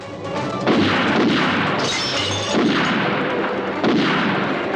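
Heavy bursts of gunfire in a Thunderbirds audio drama boom and crackle in loud, repeated volleys, roughly one big blast every second or so, with dense noisy echoes.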